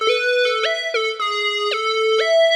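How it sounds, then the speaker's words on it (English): A bright Ice Synth Lead preset from a beat-making program plays a short melodic line of sustained, sharp-edged synth notes that step between pitches with quick attacks, loud and alone without any voices. "for my next sound, I'm going to be using this sound called Ice Synth Lead"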